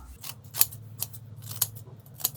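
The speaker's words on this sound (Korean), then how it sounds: "배추김치 4분의 1쪽을 가위로 솥에다 그냥 썰어주세요" Kitchen scissors cut quarter-heads of napa cabbage kimchi straight into a pot, with four crisp snips spaced out at a steady pace, close and alone.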